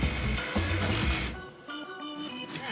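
A power tool cuts through an old couch, its loud buzzing whine running steadily, then dropping to a thinner, higher motor tone partway through as the blade works through the upholstery and frame.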